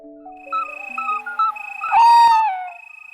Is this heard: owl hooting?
yes